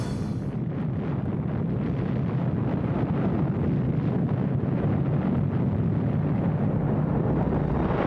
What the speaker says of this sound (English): On the 16th of July, 1945, a bomb exploded in the American desert.